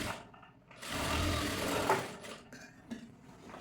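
A sewing machine stitches blouse fabric with a steady, close mechanical whir that rises and eases slightly, with no talking.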